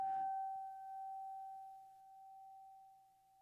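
A pure, steady ringing tone sustains evenly after a brief scrape at the start, the clear singing note of a crystal wine glass rim being rubbed, close and soft.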